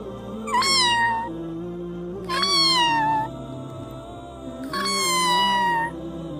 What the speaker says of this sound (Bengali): মিকি কাছে গেল আর ম্যাও ম্যাও করে